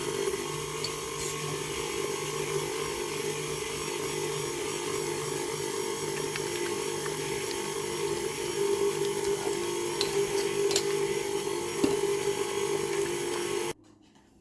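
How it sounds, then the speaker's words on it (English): An electric mixer running on low, creaming butter as beaten eggs are slowly added for a Christmas pudding, a steady whirring drone with faint clicks that cuts off abruptly near the end. "Now with the mixer on low"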